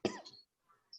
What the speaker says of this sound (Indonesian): Maaf ya, batuk begini.